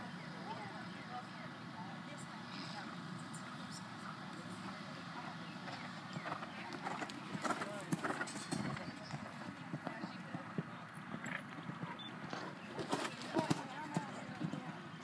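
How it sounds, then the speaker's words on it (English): Hooves drum in a rolling canter rhythm on soft ground, several horses moving at once at a dressage show, with a crowd murmur and an announcer's voice over a distant address system. "Canter your horses. Show your horses at the canter."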